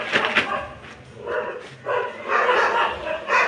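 A dog barks and yips in short bursts at moderate distance, with a few whimpers between, during a household Hartalika puja gathering.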